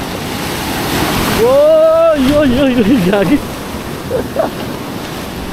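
Strong ocean waves surge onto a beach in rainy season at Laki Beach, Mariveles, Bataan, a loud rushing wash with wind noise, while people shout and exclaim over it.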